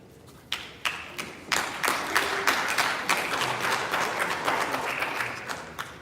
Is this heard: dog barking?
no